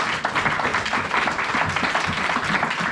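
A church congregation applauding during a sermon, dense steady clapping from many hands filling the room for the whole stretch, close and lively with no pauses.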